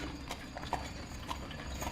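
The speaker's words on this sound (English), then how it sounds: "we heard a noise approaching of horses and voices" Horse hooves clip-clopping in a steady, moderately paced rhythm, a sound effect for a band of riders approaching through trees, faint and alone with no voices.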